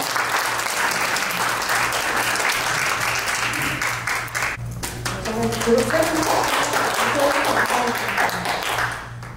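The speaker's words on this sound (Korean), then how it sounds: "우리 큰 박수로 환영합니다." A church gathering applauds warmly to welcome a speaker to the front, sustained dense clapping that fades out near the end while voices and low sustained tones carry on beneath it.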